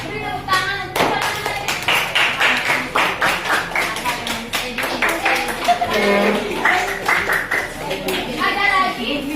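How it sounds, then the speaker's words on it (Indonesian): Children in a classroom break into applause, a dense run of sharp claps lasting several seconds, near and fairly loud, with some children's voices mixed in over the clapping. "Beri tepuk tangan untuk"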